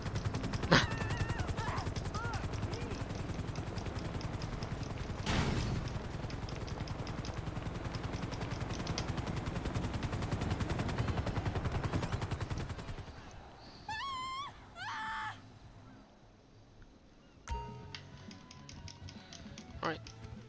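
Fireworks fired from a firework launcher in GTA V Online pop and burst in rapid crackling volleys, with sharp louder bangs and busy game noise throughout, then quieter scattered bursts and game sounds near the end.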